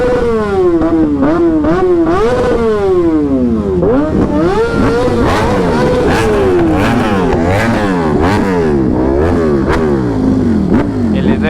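A superbike engine revs hard and repeatedly at a public bike meet-up, loud rising and falling whines sweeping up and down close by, with other engines and voices underneath.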